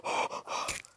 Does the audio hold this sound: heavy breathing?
yes